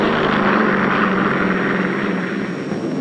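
Aircraft fly during an atomic test shot. A loud, steady engine drone with a propeller-like hum fills the whole stretch, slightly fading toward the end, with a dull archival tone and no speech.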